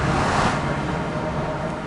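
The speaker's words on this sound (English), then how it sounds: "I put that portal behind a waterfall just because" A waterfall in Minecraft gives a steady, even rush of falling water, a broad continuous roar with no breaks.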